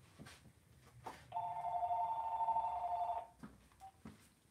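Telephone on its charger behind a kitchen cooker, giving one long electronic ring burst of about two seconds, muffled and moderately distant, with faint clicks and household noise around it.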